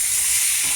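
Eggplant bhaji with added dal is stirred in a pan of hot oil, a steady hissing sizzle, loud and close, that runs unbroken through the brief moment with no voices.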